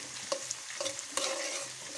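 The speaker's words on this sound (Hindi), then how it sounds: "अब हम इसमें ज़ीरा डालेंगे" Cumin seeds crackle in hot oil in a kadhai while methi sabzi is being made, a soft steady sizzle with a few clinks from stirring and no voices.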